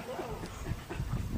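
A dog at a game dog kennel, heard in a brief close burst of whimpering and panting sounds.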